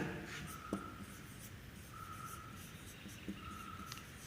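Chalk or marker writing on a board in a physics class on electric fields, a faint scratchy rubbing that runs through most of the stretch with a couple of small taps, fairly quiet and with no one talking.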